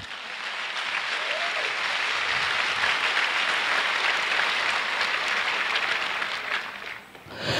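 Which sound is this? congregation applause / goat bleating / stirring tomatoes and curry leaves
congregation applause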